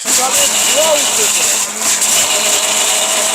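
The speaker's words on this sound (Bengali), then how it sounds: "এই যে যে দানবীয় ব্লেন্ডার" An Orpat 1600-watt blender runs at full power with a loud, steady high whine, its motor pitch wavering slightly near the start and then holding constant.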